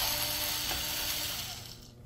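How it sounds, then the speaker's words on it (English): A screwdriver clicks and ratchets quietly and continuously while removing screws from the bottom of an Asus laptop on a soft bench top, then fades off. "So we're going to move all the screws on the bottom."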